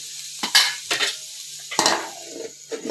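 Bamboo shoot vegetable being mixed and cooked in a pan, with a few distinct spatula stirring strokes and scrapes over a low sizzle, close and fairly loud.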